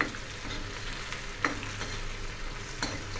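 Spinach sizzles and crackles steadily in hot tempering oil, with a couple of sharp clinks of a utensil against the pan.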